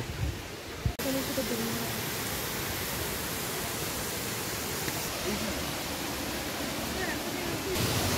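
Krang Shuri waterfall in Meghalaya roars as a constant, dense wash of falling water, steady and full from start to finish with a slight lift after the first second.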